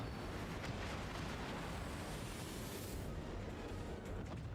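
A torpedo strikes a ship in the World of Warships naval game, setting off a heavy, sustained explosive roar with deep rumble and hiss that fades slightly toward the end.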